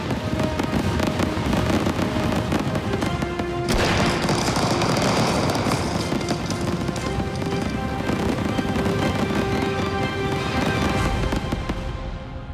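New Year fireworks burst in a dense, continuous crackle of loud explosions, with overlapping bangs and popping that keep going and never pause.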